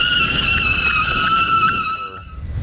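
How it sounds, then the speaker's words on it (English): Motorcycles braking hard with the rear wheel locking up produce a loud, sustained tire squeal and skid, close by, tapering off near the end over a rumbling engine bed. "One is gonna be doing rear wheel lockup."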